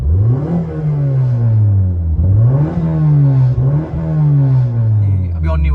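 Modified car fitted with an aftermarket silencer revs loudly up and down in several surges, a deep droning engine note rising and falling close by, with voices talking over it.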